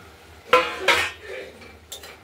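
Potatoes go into a cooking pot for a cabbage, potato and tomato curry with ground spice paste, giving two sharp metallic clatters close by and a softer later clink, with quiet room tone between.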